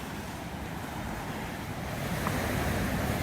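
Surf breaking along a beachfront in Coson, Dominican Republic on an overcast day, a steady broadband wash of waves with wind buffeting the microphone, swelling slightly louder toward the end.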